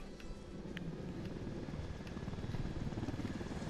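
Supply helicopter in Ghost Recon Wildlands, a dense low rotor thrum and engine roar that holds steady and close throughout, with no talk over it.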